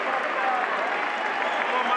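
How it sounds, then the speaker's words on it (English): Boxing crowd at the MGM Grand in Las Vegas cheering and applauding in the closing seconds of a fight, a dense, steady roar of clapping and voices from a large arena audience. "A lot of people jump up and give him a much-deserved ovation."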